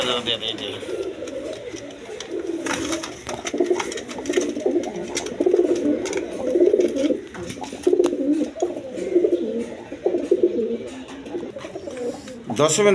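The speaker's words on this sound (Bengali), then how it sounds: "এখানে এক পেয়ার নর কবুতর আছে দেখেন ধরনের নর" Male pigeons at a pigeon seller's coo repeatedly in soft, rolling low calls close by, while someone talks over them throughout.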